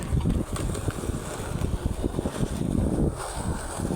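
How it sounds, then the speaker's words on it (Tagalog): Cool early-morning breeze blowing outdoors, a steady rushing wind that buffets the microphone with low rumbling gusts throughout, with no talking. "Sarap ng simoy ng hangin."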